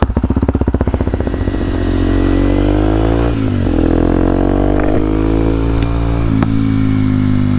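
A Kawasaki KLX 230SM motorcycle is ridden close by, its engine pulsing at first, then revving up into a steady loud drone with gear-change dips and small rises and falls.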